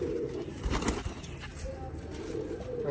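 Sialkoti rooftop pigeons cooing softly: faint, low murmuring coos keep up behind a quiet outdoor background, with brief rustles and a few small chirps.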